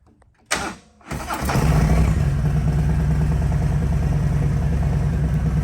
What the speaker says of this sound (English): so we're ready to start the bike